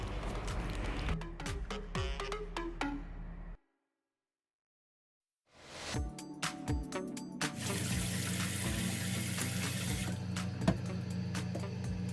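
Tap water runs steadily over freshly peeled, deveined shrimp being rinsed clean in a kitchen sink, splashing continuously, cutting out to silence for about two seconds, then resuming louder with busier spattering.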